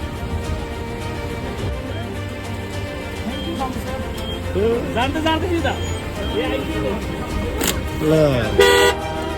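Car horns honk in a traffic jam during heavy snowfall in Manali, with several short toots, near and far, rising louder toward the end over engine rumble and someone talking.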